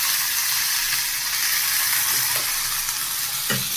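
Carrots and beans frying in hot oil in a pan, where capsicum and cauliflower were fried earlier, give a steady close sizzle throughout, with a few faint utensil clinks near the end.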